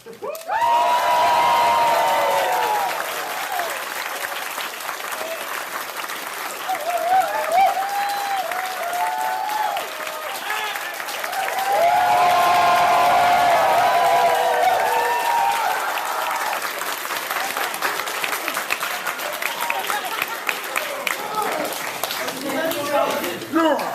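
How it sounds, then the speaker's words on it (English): Theatre audience at a live voice-acting stage show breaking into loud, sustained applause with cheering, a dense crowd of clapping that swells and holds for the length of the clip, with voices talking over it. "The audience erupts in wild applause."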